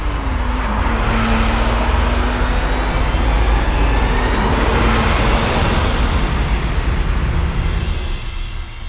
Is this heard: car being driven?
yes